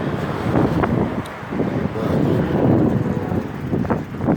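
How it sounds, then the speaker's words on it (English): Wind blowing hard against a window and microphone during a ride, heard as a loud, gusting roar with rumbling buffeting that rises and falls throughout. "wind blowing"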